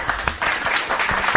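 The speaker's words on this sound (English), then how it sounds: "Big round of applause." A brief round of applause from a small group, a second and a half of steady clapping with a few sharper claps standing out.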